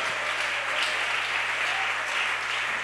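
Worshippers at a church service break into sustained applause for the Lord, an even, continuous roar of many hands clapping at moderate loudness.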